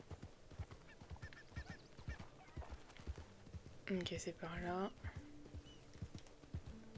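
Horse hooves clip-clop in a steady rhythm as a mount trots through a video game world, mid-level and continuous beneath someone speaking French, with a brief brighter animal-like call partway through.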